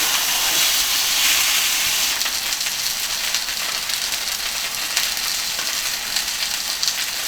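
A tomahawk steak fries in a pan, giving a loud, steady, close sizzle and spattering hiss that runs unbroken with no voices.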